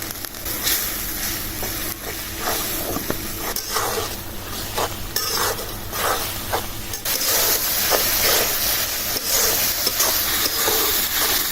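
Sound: frying spice paste (masala) in a pan

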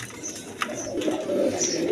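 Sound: pigeons cooing

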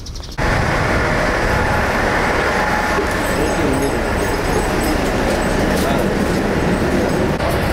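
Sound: single-car diesel train at a station

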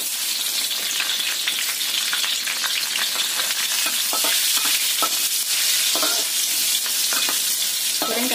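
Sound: frying chili peppers in a pan

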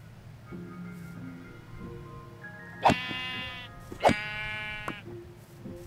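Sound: sheep bleating in the video game Minecraft

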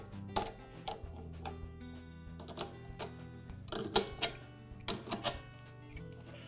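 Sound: adjustable wrench removing coupler from compressor regulator

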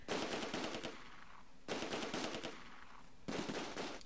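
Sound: machine gun fire in Close Combat video game

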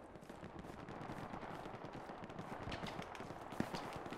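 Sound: cannon firing in Hell Let Loose video game

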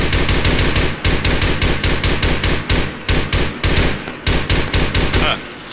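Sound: gunfire in video game Arma 3

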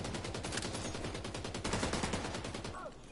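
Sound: gunfire in the video game The Division 2

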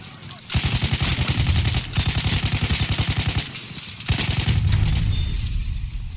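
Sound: Hellriegel 1915 submachine gun firing in video game Battlefield 1

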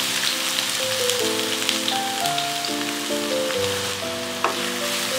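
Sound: chopped onion and carrot frying in melted ghee

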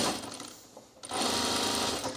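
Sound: sewing machine sewing a pleat on ironing board cover

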